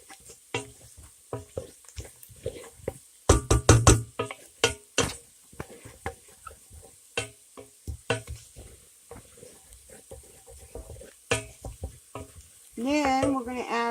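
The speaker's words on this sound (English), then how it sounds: "Got to keep it stirring until we get it thick." Flour is stirred into onions and bacon frying in a pan, giving a steady sizzle with repeated scraping strokes of the spoon, loud and close, with a voice briefly heard near the end.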